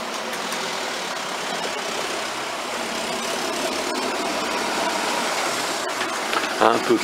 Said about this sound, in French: Un peu plus de circulation